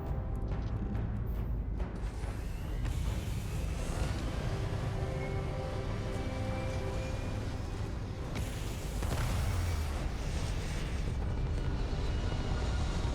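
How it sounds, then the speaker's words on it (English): Spaceship takeoff in the video game Starfield, a loud, deep, continuous engine roar with rumbling low end that swells and surges, building to a heavier blast partway through, with no talking over it. "Start the takeoff sequence!"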